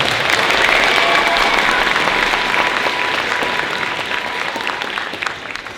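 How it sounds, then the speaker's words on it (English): A large audience at a middle school winter band concert claps loudly and steadily, the dense applause holding for several seconds before tapering slightly at the end. "Let's give them a round of applause."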